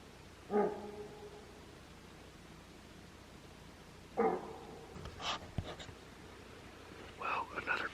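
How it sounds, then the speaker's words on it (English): A bull elk barks at night about a hundred yards off, with three or four short, sharp, faint calls spaced apart over quiet background noise, plus a few soft nearby rustles. "Had a bull barking at 100 yards away before shooting light."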